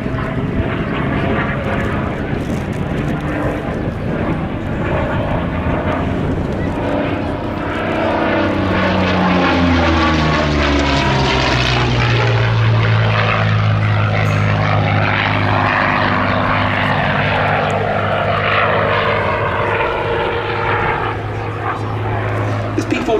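Curtiss P-40C Warhawk propeller fighter at the Duxford Battle of Britain Airshow, engine roar building as it approaches and sweeping past with a falling pitch, then droning away, with a commentator talking over it.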